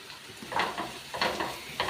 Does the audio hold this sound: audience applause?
no